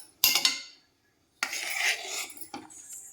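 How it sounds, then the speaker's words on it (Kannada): Spoon clinking and scraping against a pot while poppy seed payasa with raisins and cashews is stirred, two separate bursts of close metallic stirring with a short silent pause between them. "ಇದಕ್ಕೆ ದ್ರಾಕ್ಷಿ, ಗೋಡಂಬಿ ಕರೆದಿಟ್ಕೊಂಡಿದ್ವಲ್ಲ ಅದು ಹಾಕಿ ಚೆನ್ನಾಗಿ ಮಿಕ್ಸ್ ಮಾಡ್ಕೊಳ್ಳಿ."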